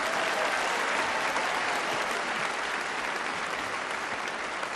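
Steady, dense applause from a large audience at the Miss World 1976 pageant, even and continuous throughout, with no voices on top.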